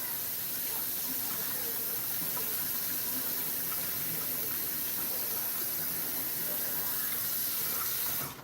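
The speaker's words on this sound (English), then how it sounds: "We're gonna get that hot water going." Hot water runs steadily from a kitchen tap into a sink, a continuous close hissing splash that stays even for the whole stretch and then cuts off abruptly at the very end.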